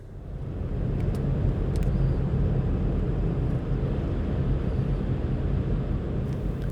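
Skoda Kodiaq 2.0 TDI diesel with automatic gearbox, rated 140 kW (190 hp), giving a steady, loud low rumble from inside the cabin while driving, with no talk over it.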